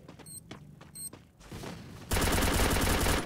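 Gunfire in the Garena Free Fire battle royale game on the Bermuda map: a few scattered shots early, then a dense, loud burst of rapid automatic fire continuing to the end.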